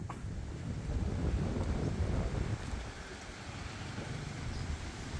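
Strong wind before a rainstorm roars steadily, buffeting and rumbling low, with no voices, a continuous gusty rush throughout.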